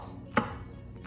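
A knife chopping leftover side dishes on a board, two crisp separate chops about three-quarters of a second apart, close and clear over a quiet background.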